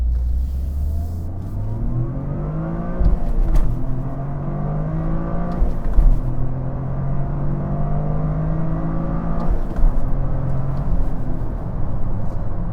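A Toyota GR Corolla hot hatch swings through a U-turn, its engine note rising and falling through several gear changes with steady road and tyre noise, close and fairly loud, no voices.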